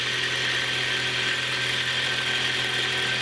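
A boat motor shaft spins on a lathe, making a steady, loud mechanical whir with a rapid ratcheting, geared clatter that runs continuously and evenly throughout, with no talk.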